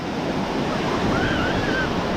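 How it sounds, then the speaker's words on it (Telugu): Big ocean waves crash and roll onto the shore near the ancient Shore Temple, a loud, continuous broadband roar of surf mixed with wind buffeting the microphone throughout. "చూడండి ఎంత పెద్ద అలలు అయితే వస్తున్నాయో"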